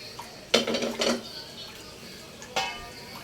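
A metal pot lid clanks back onto a pot of laing cooking on the stove, with a sharp clatter near the start, a second rattle just after, and another clink a moment later, all close by.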